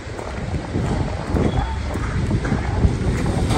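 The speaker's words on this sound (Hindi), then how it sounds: "बहुत तेज हवा चल रही है" Strong wind blows through Nainital in dark, rainy weather, a steady broadband rush that buffets the microphone and swells slightly partway through, with faint background activity beneath.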